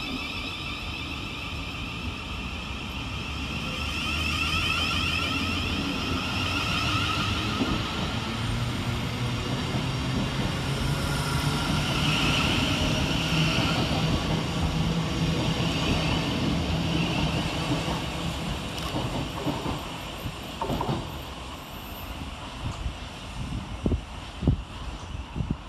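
A Class 700 Govia Thameslink train, unit 700 021, runs through Gravesend station with a steady low rumble and hum that swells and fades over about twenty seconds, with a few sharp knocks near the end and no talk.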